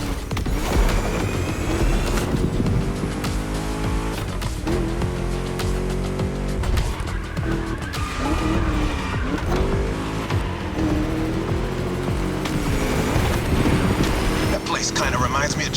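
An American muscle car's V8 engine racing in The Crew Motorfest, a loud, continuous throaty drone that rises and falls with gear changes, with someone speaking over it.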